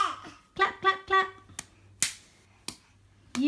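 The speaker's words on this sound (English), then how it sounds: "Clap, clap, clap." Several sharp, isolated claps or snaps ring out one at a time with pauses between, following a short stretch of a voice near the start.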